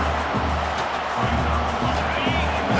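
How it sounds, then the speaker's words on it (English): A stadium crowd cheering near the goal line in the College Football 26 video game: a dense, continuous roar of voices, loud and unbroken throughout, with low rumbling underneath. "The crowd really making some noise now, trying to help out this defense to get this stop near the goal line."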